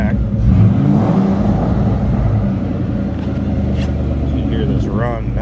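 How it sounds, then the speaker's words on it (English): A 2003 Ford Mustang SVT Cobra convertible with a six-speed manual idles steadily with a deep, throaty exhaust, apparently opened up, close and continuous, while someone talks over it. "So you hear this run, nice throaty exhaust on it"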